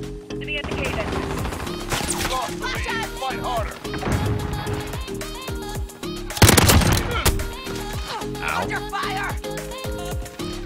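Rapid bursts of Mini Uzi submachine-gun fire in Call of Duty: Modern Warfare, loud and close, with other gunfire and game effects between bursts and a heavy blast near the middle.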